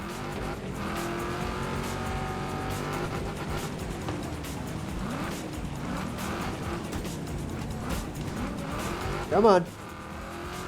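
Race car engine in the video game Wreckfest 2, droning steadily at high revs as if held against the rev limiter, with tire squeal and racing noise around it and a brief louder burst near the end, under a man's short remark.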